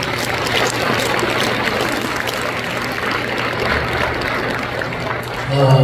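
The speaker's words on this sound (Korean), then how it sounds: "이거 박수로 모시겠습니다" A church congregation at a March 1st commemorative worship service in Incheon gives sustained, even applause, a dense wash of clapping with a low hum beneath it.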